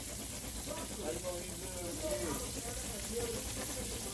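Fish frying in a pan after being flipped, a loud, continuous broadband sizzle with faint voices mixed in underneath.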